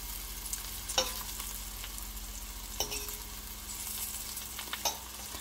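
Okra pieces sizzle steadily in a frying pan, a constant crackling bed with three sharp clinks or scrapes as pieces are turned, no voices present.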